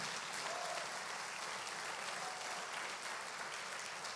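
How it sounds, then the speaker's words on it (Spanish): Applause from a church congregation during a Spanish-language sermon, a steady, dense wash of many hands clapping continuously throughout, moderately distant with no talking over it. "Dele fuerte ese aplauso a Jesús."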